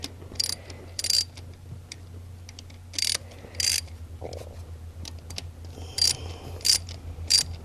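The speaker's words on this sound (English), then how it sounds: "I'm just going to use the head of the ratchet to make sure I'm using minimal torque." Ratchet tightening the high pressure fuel pump bolts on a 5.3L Chevrolet Silverado engine, heard as short bursts of crisp clicking spread across the clip over a low steady hum, fairly close and moderately loud.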